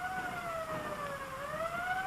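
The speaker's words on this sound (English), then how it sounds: "Hear that? Police car." A police car siren wails in the distance, its pitch sliding slowly down and then back up, faint and alone against a soft hiss.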